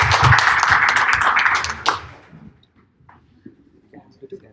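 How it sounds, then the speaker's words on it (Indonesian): An indoor audience applauds to welcome a guest speaker at an evening talk in Indonesia, a loud burst of clapping lasting about two seconds that quickly fades into quiet room noise. "dengan tepuk tangan yang paling meriah"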